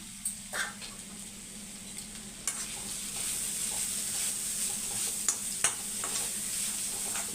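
Continuous sizzling of beetroot stir-frying uncovered in a hot pan with scattered scraping and stirring clicks, steady and close, no voices.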